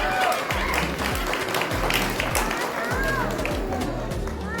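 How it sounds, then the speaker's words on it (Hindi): Audience applause at a stand-up comedy show during a Durga Puja 2024 celebration in Linköping: dense, steady clapping from a crowd throughout, with a voice speaking over it. "जो लोग ताली बजा रहे हैं"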